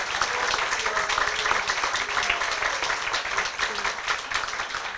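An audience at an award ceremony for a literary prize claps continuously, a dense even wash of applause from a crowd, sustained for several seconds without a break.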